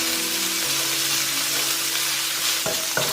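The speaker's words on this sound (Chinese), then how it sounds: "先把五花肉放进来煸香" Pork belly stir-fries in hot oil in a wok, giving a steady, bright sizzle that continues unbroken, with a couple of brief clinks near the end.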